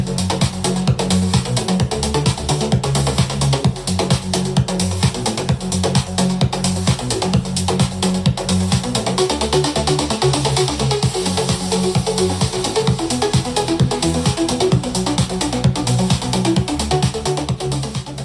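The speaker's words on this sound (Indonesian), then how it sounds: "Tadi adalah suara dari speaker Hey Future Music Box." DJ-style dance music plays through a Hifuture Music Box portable speaker, loud and continuous with a pounding steady beat and dense full-range sound, with no talking.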